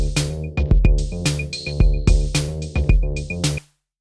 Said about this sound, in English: it's going to totally change this bass sound